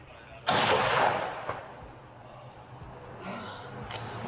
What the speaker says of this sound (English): He's shooting out of the house.